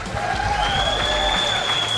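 Dense clapping from a crowd fills the whole stretch, steady and moderately loud, with a faint tonal whistle or feedback riding above it.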